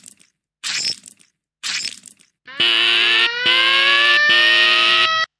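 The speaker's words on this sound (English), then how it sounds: "Time to press the fire alarm button." After a couple of short scraping crunches, a fire alarm in an animated Mega Man parody blares with a loud, steady electronic siren tone repeating in long pulses.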